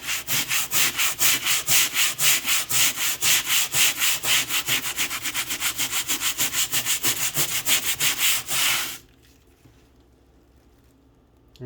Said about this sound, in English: So I'm going to finish scrubbing this